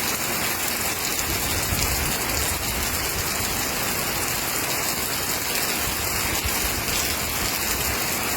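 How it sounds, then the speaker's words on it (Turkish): Heavy, steady rain roars without pause during a storm in Viranşehir, Şanlıurfa, a dense broadband wash with a rumbling low end from strong gusting wind, no voices present. "Şanlıurfa'da ve ilçelerde sağanak yağışla şiddetli rüzgar etkili oldu."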